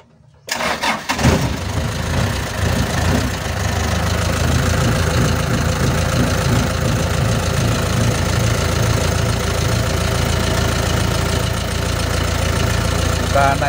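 A car engine cranks and catches after a brief silence, then settles into a steady, loud idle that runs on without change.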